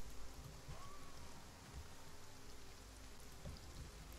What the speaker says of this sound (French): Ah, il pleut bien, il pleut bien.